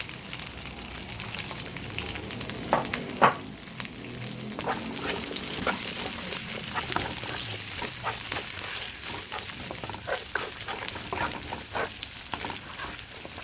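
Onions sizzle in hot oil for a shrimp stir-fry, a close, even frying hiss dotted with crackles and spatter pops, plus a louder knock of a utensil early on.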